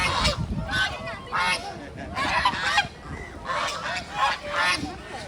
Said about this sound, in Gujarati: આ જો બહુ બધા બતક છે